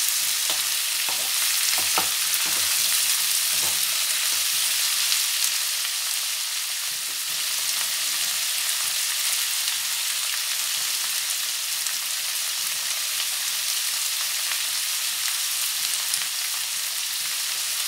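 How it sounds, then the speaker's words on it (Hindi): Onions and tomatoes fry in ghee with whole spices in a pan, giving a steady close sizzle broken by a few stirring scrapes early on, with no talking. "अब इसमें हम टमाटर डाल देते हैं। देखिए खुशबू बहुत अच्छा आ रहा है, इसको घी में बन रहा है"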